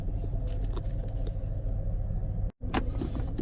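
A $300 1991 Ford Thunderbird idles with a steady low engine rumble inside the car, broken by a brief dropout and then a short click near the end.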